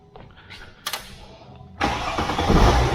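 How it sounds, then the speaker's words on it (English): A Mercedes car engine cranks with a whirring starter and then catches, settling into a loud, steady running rumble, heard up close from under the open hood. "I'll go and turn the car on quickly."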